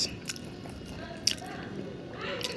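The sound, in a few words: biting and chewing crunchy lentil fritters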